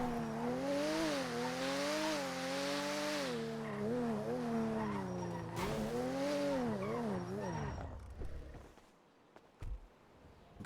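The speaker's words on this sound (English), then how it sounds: "The car is so loud." Game car engine in GTA V roleplay on the NoPixel server, a loud sustained revving drone that rises and falls in pitch, with tires squealing and skidding before the engine cuts out near the end.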